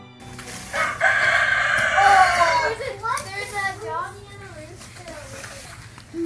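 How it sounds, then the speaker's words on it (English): A rooster crows loudly close by on a mountain road near Volcán, Panama, a long drawn-out call followed by shorter crows, with a voice and other talk around it. "There's the chickens."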